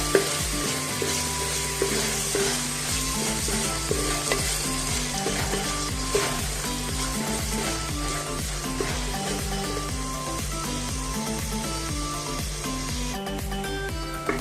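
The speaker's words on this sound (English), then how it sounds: "Now we'll fry the onions till they are nice golden brown in color." Finely chopped onions frying in a pan for a Goan fish thali, a continuous close sizzle with occasional stirring scrapes throughout.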